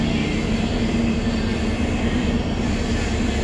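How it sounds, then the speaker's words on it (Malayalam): Train 16576, the Gomateshwara Express running from Mangaluru Junction toward Yesvantpur, rumbles steadily as heard from inside its Vistadome coach, a continuous low rolling drone with a faint hum and no speech. "മംഗളൂരു ജംഗ്ഷൻ മുതൽ യശ്വന്ത്പൂർ ജംഗ്ഷൻ വരെ പോകുന്ന ട്രെയിൻ നമ്പർ 16576 ഗോംതേര എക്സ്പ്രസിൻ്റെ വിസ്റ്റം കോച്ചിലാണ് നമ്മളിന്ന് യാത്ര ചെയ്യുന്നത്"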